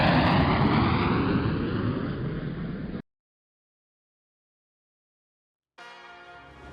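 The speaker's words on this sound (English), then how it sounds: "we're going to show you a departure in an SF50 Vision Jet from Centennial Airport on a hot day" A Cirrus SF50 Vision Jet on its takeoff run from Centennial Airport on a hot day, with a loud, steady broadband engine roar that slowly fades, then cuts to silence before a quieter tonal passage returns.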